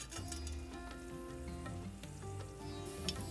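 Mustard seeds spluttering and popping in hot coconut oil in a tilted pan for a Kerala-style mixed vegetable kurma, a steady close sizzle with scattered sharp crackles and no talk.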